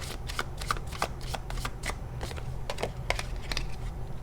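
Tarot cards being shuffled by hand, a steady run of crisp riffling flicks and slaps repeating close up, with no talking.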